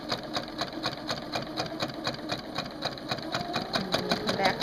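A sewing machine stitches bias binding on striped fabric, its needle running in a steady, rapid rhythmic chatter at close range with no pauses and no talk.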